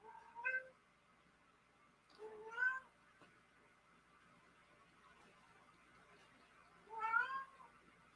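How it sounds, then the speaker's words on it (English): A cat meows three times indoors, fairly close and moderately loud, each call rising and falling, spaced with pauses of quiet room tone between them. "my cat just broke in. Yay! And she's a neat, so yeah, she's meowing a lot"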